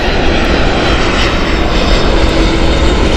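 A Boeing 737 MAX jet at Gatwick Airport gives a loud, continuous engine roar, close and steady throughout, with no voices over it.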